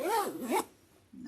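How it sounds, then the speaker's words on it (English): Zipper on a newly sewn duffel bag pulled in two quick rasping strokes, close and clear, followed by a short quiet pause. "I'm going to go ahead and test this zipper."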